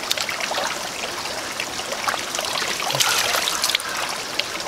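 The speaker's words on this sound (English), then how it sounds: "it's magical to have running water on the land" A creek runs over rocks, a continuous near trickle and babble of cold water at steady volume with small splashy bursts and no talk.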